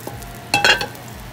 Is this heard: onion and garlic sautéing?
yes